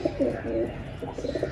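Pigeons cooing in a loft after flight, a run of soft repeated coos close by, steady and fairly loud against light background noise.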